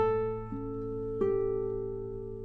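A 1983 José Romanillos 'La Maiolica' classical guitar rings with plucked notes that bloom into rich sustained overtones and sympathetic resonance, decaying slowly without talk.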